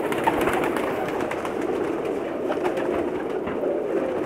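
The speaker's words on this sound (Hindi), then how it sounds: "ये तमाम के तमाम कबूतर फॉर सेल हैं" Golden, Kamgar and Imamdin pigeons kept for sale in Jeddah coo softly beneath a constant murmur of background noise, with their calls blending into a low, steady hum.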